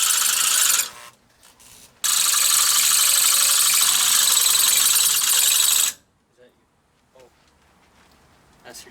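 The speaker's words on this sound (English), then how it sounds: "That's your drill, dude." A drill bores a hole for a brake bracket bolt on a 1957 Chevrolet Bel Air during a drum to disc brake conversion, a loud, close, gritty grinding in two bursts, a short one and a long four-second run, then quiet.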